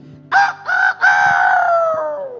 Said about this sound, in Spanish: cantó el gallo